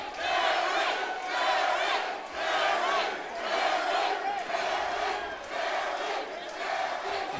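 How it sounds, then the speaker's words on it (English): A mixed martial arts crowd at an LFA fight event roars and shouts in loud, surging waves that swell and dip every second or so, dense and continuous. "Listen to this crowd."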